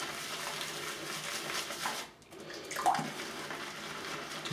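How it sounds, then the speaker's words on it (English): A shaving brush dipped into water, a continuous close splashing and sloshing that pauses briefly before a wetter swish resumes, with no talk. "Just dipping the brush in the water again."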